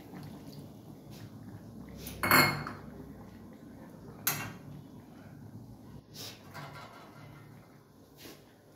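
A metal lid set onto a pot of cooking curry gives a sharp clatter, followed by a few lighter clinks of cookware over a quiet kitchen background.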